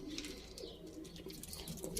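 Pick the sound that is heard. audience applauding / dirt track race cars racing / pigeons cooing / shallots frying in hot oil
pigeons cooing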